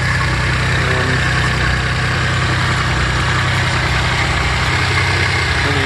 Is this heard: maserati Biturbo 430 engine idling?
yes